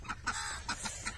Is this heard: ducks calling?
yes